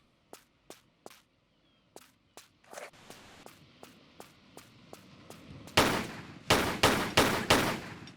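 Gunfire in Tomb Raider III: sharp, evenly spaced pistol shots crack one after another, some quieter and some close and loud, ending in a burst of heavier, louder reports.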